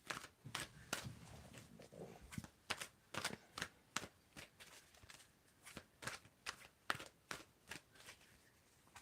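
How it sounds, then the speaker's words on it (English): Tarot cards are shuffled by hand in a quick series of crisp riffling bursts, close and distinct, repeating in an uneven rhythm against a quiet room. "Jane, you can tell me when to stop shuffling."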